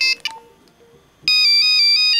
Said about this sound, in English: A lot of people have this as their ringtone.